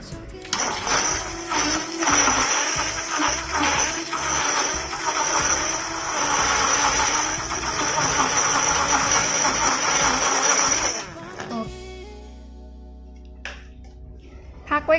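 Milk frothed for a brown sugar drink, a loud continuous hissing whir lasting about eleven seconds before cutting off, then a quieter low hum and a few soft clicks.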